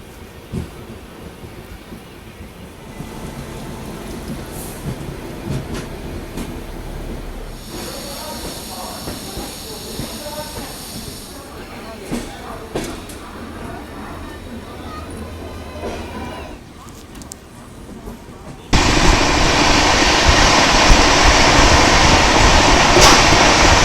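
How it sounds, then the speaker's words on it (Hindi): Duronto Express train at Kharagpur Junction station in India, with steady rail rumble and clatter that turns abruptly louder and brighter near the end, a voice speaking faintly beneath. "फिलहाल कुछ ही देर में अपनी ट्रेन स्किप करने वाली है खड़गपुर जंक्शन रेलवे स्टेशन"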